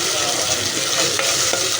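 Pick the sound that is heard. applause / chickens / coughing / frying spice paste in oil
frying spice paste in oil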